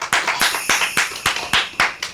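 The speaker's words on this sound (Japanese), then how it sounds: "いいテイク取れると拍手みんながしてくる" A team applauding after a good take: about nine sharp, evenly spaced claps ring out close and clear in a steady rhythm.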